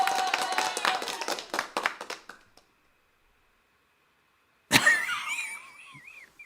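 A burst of quick hand claps for about two seconds, then silence, followed by a sudden noisy sound with a wavering tone.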